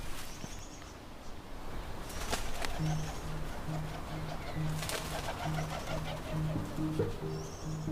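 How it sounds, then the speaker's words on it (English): Outdoors in urban nature, a steady series of soft, low cooing calls repeats near the microphone under a hiss of ambient background noise, with a few brief rustling bursts, a mix of birds heard that fits the kereru wood pigeons hopping between trees. "So there are these couple of wood pigeons, keriru, tree hopping."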